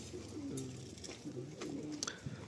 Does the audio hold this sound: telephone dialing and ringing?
no